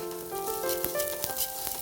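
Rice frying in oil in a non-stick pan gives a steady, close sizzle with fine crackling and a few sharper pops, with no voices over it.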